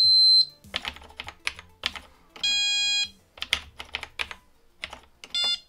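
Simple computer beeps programmed in BASIC on an old home computer, short pure tones and a few longer sustained beeps in an irregular sequence, close and fairly loud, mixed with clicky keyboard typing and no talking.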